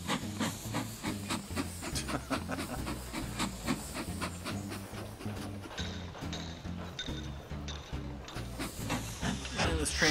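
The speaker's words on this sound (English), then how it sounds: "and we're going to start up the train." Steam train starting up in the rail-network game Mashinky: rhythmic chugging beats with hissing steam, steady and close, picking up a sharper chuff in the second half, with no talking.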